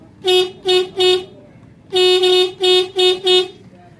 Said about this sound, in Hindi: ये देखिएगा, अभी हॉर्न ना बजने लग जाएंगे।